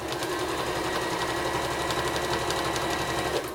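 Sewing machine stitching trimmed fabric scraps onto quilt-as-you-go patchwork, a fast, steady, close rattling whir of the needle running without pause.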